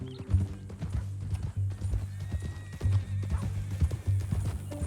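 Horse hooves clop steadily at close range in the video game Red Dead Redemption 2, with a horse whinnying over the footfalls. No one speaks.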